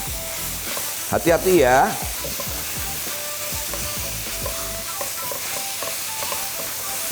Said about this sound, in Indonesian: sekarang kita masukkan dagingnya. Nah, ini dagingnya kita bikin supaya tidak anyir, dia akan mengeluarkan rasa gurihnya justru, ya. Kita aduk sama bumbunya sampai rata.